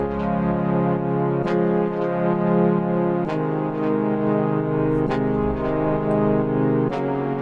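Synthwave brass chord preset from an FL Studio synth pack, lows cut, playing sustained chords that change about every two seconds in a steady rhythm, loud and alone, with no talking.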